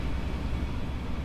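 A heating vent blows warm air into a cold room, a steady broadband whoosh with a low rumble, constant and close without any break.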